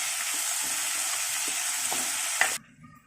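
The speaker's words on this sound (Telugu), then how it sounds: "ఇలాగా ఆనియన్స్ వేసుకోవాలి. ఇలాగా బాగా ఫ్రై చేసుకోవాలి." Onions frying in a pan for a small bitter gourd curry, a steady hiss with a few stirring scrapes, ending abruptly with a clink.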